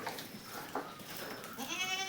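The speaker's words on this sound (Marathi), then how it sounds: "हे बघा ही आमची बकरी" A farm goat standing in muddy, waterlogged ground gives a couple of short bleats, the last one rising into a wavering, quavering cry close by.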